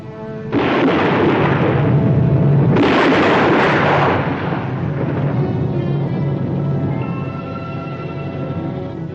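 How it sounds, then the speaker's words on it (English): Rolling thunder in a 1940s film scene, two loud broad rumbling crashes with a sharp onset at the start, then a long sustained low roll fading slowly with no voices. "Listen to the thunder."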